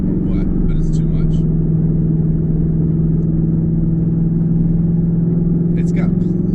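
A 2019 Mustang GT convertible with a 10-speed gearbox eases forward at about 25 mph and 2600 RPM, its engine a steady, close low drone that rises slightly in pitch before holding even. A few faint, brief sounds break in on top.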